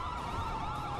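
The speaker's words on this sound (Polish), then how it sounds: "Fajny wóz strażacki." A fire truck siren wails in the GTA RP game, loud and continuous with a rising and falling tone and no voices.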